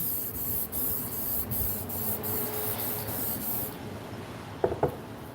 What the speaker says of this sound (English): Even just this matte spray really brings out the color.